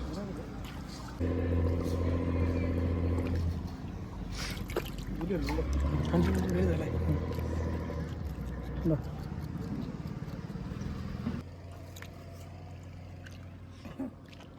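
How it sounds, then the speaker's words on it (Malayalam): A passenger boat bound for Alappuzha drones steadily on the backwater with some splashing, while people talk nearby over the motor. "ആ വന്നിരിക്കുന്ന ബോട്ട് ആലപ്പുഴയ്ക്ക് ഉള്ള ബോട്ടാണ്."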